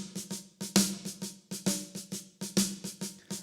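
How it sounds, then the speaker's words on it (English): Programmed snare drum in a Christmas song mix, hitting in a steady repeating pattern of sharp, bright cracks with a short low body, played alone with no talk. "you can really hear that it's a programmed snare drum"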